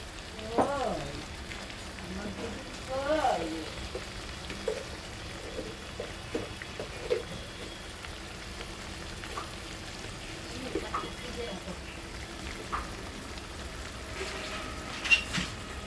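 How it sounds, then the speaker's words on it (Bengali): Spices fry in oil in a pan for a Bengali shrimp curry with raw pumpkin and potato, giving a faint, steady sizzle broken by scattered soft clinks and stirring scrapes, with no talk over it. "ভালো করে মশলাটা কষিয়ে নিতে হবে এখন"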